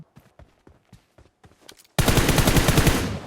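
Enemy gunfire in PUBG Mobile erupts as a loud, rapid automatic burst of sharp shots that starts abruptly after a stretch of quiet, scattered footstep-like taps and keeps hammering to the end.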